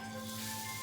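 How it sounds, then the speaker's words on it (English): Sliced shallot sizzles steadily in hot oil in a pan, a soft continuous frying hiss heard close up with no talking. "Hear the sizzle!"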